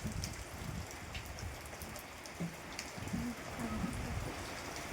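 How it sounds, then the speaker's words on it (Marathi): Heavy evening rain falling steadily, a dense, even hiss of drops hitting surfaces all around, fairly quiet and continuous with no voices. "जोरदार पाऊस आहे."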